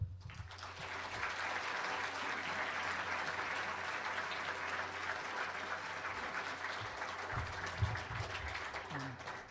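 Lecture audience applauding to welcome art critic Rob Storr, steady sustained clapping from a full room that carries on for several seconds before thinning at the end.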